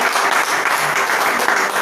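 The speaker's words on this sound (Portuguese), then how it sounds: "Aplauda o Senhor, igreja." A church congregation applauding the Lord, loud, dense and continuous clapping from many hands filling the room.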